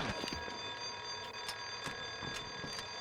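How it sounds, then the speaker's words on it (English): A continuous electronic alarm in the PS2 shooter Cold Winter blares steadily and loud, overlaid with intermittent muffled thuds and footstep-like knocks from the game. "Gonna assume that's the alarm."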